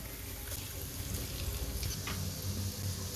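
Chopped garlic frying in oil left over from frying beef, a low steady sizzle and crackle with faint scraping, close and fairly quiet, no talking.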